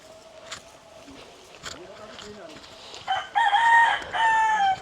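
In an African village in Tanzania, chickens cluck and a rooster crows loudly near the end, under and between a person's talk, with faint footsteps and outdoor background.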